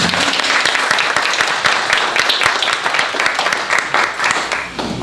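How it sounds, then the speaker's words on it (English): A crowd at a neighborhood community meeting about a recreation center gives an elected official a loud, dense round of applause, continuous clapping that holds steady before tapering at the end. "Let's give him a round of applause."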